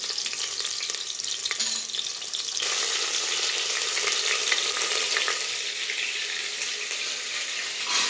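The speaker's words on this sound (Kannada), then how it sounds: "ಈಗ ಕಾಬೂಲ್ ಕಡಲೆ ಚೆನ್ನಾಗಿ ಹಾಕ್ತಾ ಇದ್ದಾರೆ ನೋಡಿ" Kabuli chickpeas with ginger-garlic paste fry in a hot pan, giving a steady close sizzle with scraping stirs throughout, no voices.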